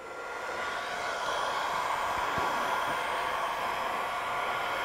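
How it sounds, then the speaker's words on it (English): A heat gun set on low warms a Twinart Goldstrike brake master cylinder cover for a 2018-2023 Honda Gold Wing. It gives a close, steady, airy whoosh that swells in the first second and then holds evenly throughout, with no talking. "So I'm going to turn my heat gun on low."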